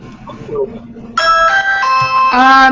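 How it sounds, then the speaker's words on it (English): After quiet indistinct talk, a doorbell chimes loudly in two ringing tones, the second chime following about a second later. "My doorbell rang."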